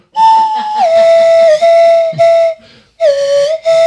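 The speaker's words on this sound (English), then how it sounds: "That's pretty good on the slide whistle." A slide whistle is played alone, with clear, bright tones that glide down and hold, cut by short gaps, then swoop again in a few quick phrases.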